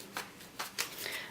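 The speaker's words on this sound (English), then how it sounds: "And just a little more shuffling." A deck of Morgan Greer tarot cards being shuffled by hand, with soft riffling bursts recurring at a steady pace, close and fairly quiet, no voice over it.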